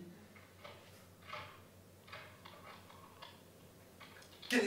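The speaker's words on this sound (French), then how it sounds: "Quel est ce bruit? On ferme les portes!" Doors are shut and locked during a staged performance of the opera Pelléas et Mélisande, heard as a sparse series of faint clunks and clicks spaced a second or so apart, ending in a sudden louder burst.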